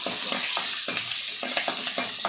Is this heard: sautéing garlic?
yes